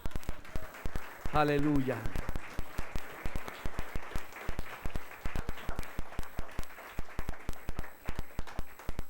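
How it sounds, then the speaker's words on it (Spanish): A church congregation claps in a steady, rhythmic beat during a worship service, the sharp claps running evenly throughout, with a voice calling out over them early on. "Dale un aplauso a Él."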